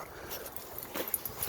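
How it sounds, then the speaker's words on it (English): Two dogs, a blue heeler mix and a basset hound, whimper and whine softly nearby, faint intermittent high-pitched whines with small yips over quiet outdoor background. "These are my 2 dogs."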